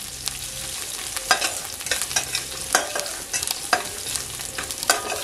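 Chopped ginger frying on a low flame for rava upma, a gentle sizzle broken by repeated sharp spatula scrapes and stirs against the pan, close and without voices.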